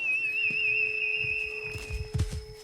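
A long, shrill, steady whistle blasts on a game reserve, then fades as heavy hoofed animals scuffle and thud nearby.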